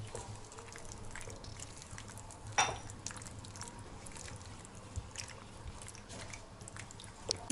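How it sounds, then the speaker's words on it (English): Pasta being stirred into a pink sauce with vegetables, soft wet squelching and gentle clinks of the spoon, quiet and steady with one brief louder knock partway through. "Now I'll add pasta in it and we'll mix this properly."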